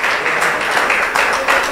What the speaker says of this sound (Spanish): Démosle ese aplauso a nuestro amado Salvador.